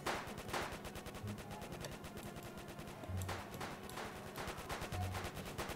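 Gunshots in a Roblox zombie game: rapid, evenly spaced automatic shots repeating steadily and fairly quietly, with a few heavier thumps between them.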